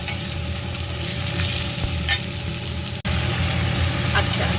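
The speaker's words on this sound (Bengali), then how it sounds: "আমি পুরো কিন্তু ঝিঙে এবং আলুটা দিয়ে দিলাম" Ridge gourd and potato pieces frying in a wok, giving a loud continuous sizzle with constant stirring and a low steady hum beneath, briefly cut by a sharp break partway through.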